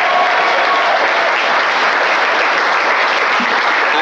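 A comedy show audience breaks into loud, dense applause and cheering, a constant roar of clapping hands that fills the room without a break.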